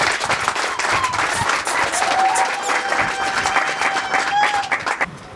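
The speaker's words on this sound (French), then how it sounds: "je souhaiterais qu'on puisse donc les applaudir." Wedding guests applaud throughout a civil marriage ceremony at a garden venue in Yaoundé, with dense, steady clapping from a crowd and a few cheers or voices rising over it.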